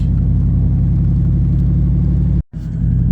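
A four-wheel drive truck on all-season tires drives along on a rainy road, its steady low engine and road rumble filling the cabin, with a brief sharp dropout near the end.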